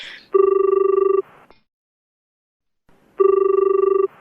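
A telephone rings in two long, loud electronic trills separated by a silent pause, close and clear with nothing else around it.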